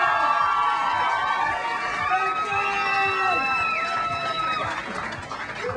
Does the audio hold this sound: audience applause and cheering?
yes